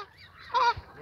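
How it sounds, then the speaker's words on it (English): A pet goose honks once, a short nasal call close by, with faint quieter calls from the surrounding ducks and geese before it and no voices. "And another goose."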